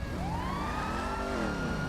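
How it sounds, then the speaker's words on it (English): A police car siren in GTA 5 wails loudly and continuously, its pitch sweeping up and down in a steady cycle with no talk over it. "Turn that siren off, sir."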